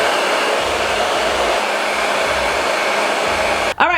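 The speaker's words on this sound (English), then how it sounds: "go back in with this blow dryer." A blow dryer runs continuously and loudly at close range, drying lace wig glue on a wig being applied, a steady whooshing roar that cuts out briefly near the end.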